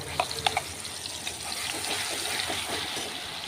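Mustard paste fries in hot oil tempered with nigella seeds, giving a steady close sizzle with a few sharp pops and spatters near the start, continuing evenly throughout.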